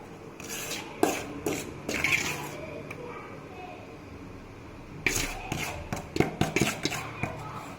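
A spoon stirs rice flour into syrup in a metal pot while making pidi kozhukattai: scattered scraping knocks and clinks in two bursts with a quiet gap between, near and soft, with a voice talking faintly at times.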